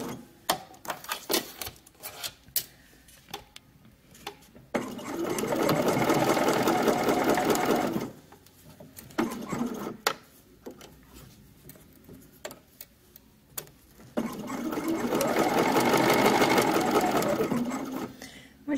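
A sewing machine stitches a knit top's fabric in two sustained runs of steady mechanical whirring, each a few seconds long, with close clicks and handling noises and someone talking between the bursts.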